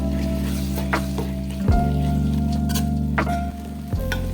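Garlic, ginger, cumin powder, coriander powder and Kashmiri chilli powder sauté in a pan with a steady close sizzle, while a constant low hum from a nearby appliance runs underneath and there are occasional soft stirring taps.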